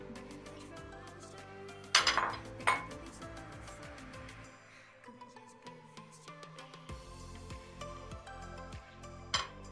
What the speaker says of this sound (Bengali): কোপ্তাগুলো আমি আস্তে আস্তে ছেড়ে দিচ্ছি।